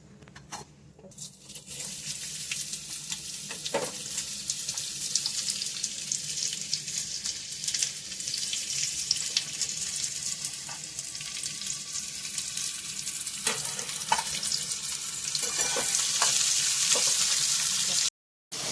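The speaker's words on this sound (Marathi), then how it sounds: "कांदा ब्राऊन होईपर्यंत भाजून घ्या।" Sliced onion frying in a pan for a masala paste, a steady bright sizzle with occasional soft crackles and stirring taps, close and continuous throughout with no voices.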